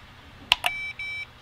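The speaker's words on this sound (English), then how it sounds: "So right now all I know is that it beeps" A Winkeyer CW keyer kit gives a few short electronic beeps as its buttons are pressed: two quick chirps followed by a steadier tone, close and clear against a quiet room.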